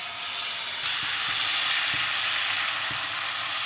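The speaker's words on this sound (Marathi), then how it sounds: "आता पॅन गरम करून त्याच्या सर्वकडे सारखे तेल लावून आता डोसा" Dosa batter sizzling on a hot oiled pan, a loud continuous hiss close up with a few soft knocks scattered through it, no voices.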